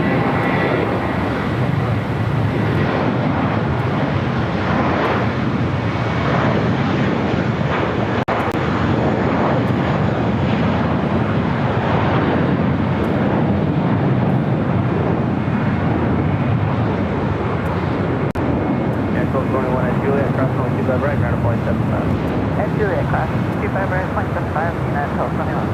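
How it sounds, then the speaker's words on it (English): A Virgin Atlantic Boeing 787-9 Dreamliner arrives at Los Angeles International Airport, its steady broadband jet roar rising and holding loud throughout, with a commentator's voice talking over parts of it. "Virgin Atlantic Flight 141 coming up from London Heathrow, 787-9 Dreamliner"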